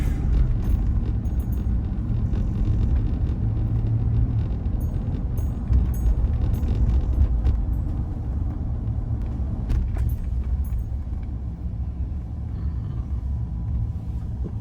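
A car drives along a beach-side road at Clearwater Beach, a steady low rumble of tires and engine filling the interior, with faint occasional ticks and no speech.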